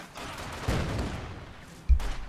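Anti-tank guns fire in a Company of Heroes 2 battle, two heavy booming shots spaced over a couple of seconds, each with a low thump and a rumbling tail over steady background battle noise.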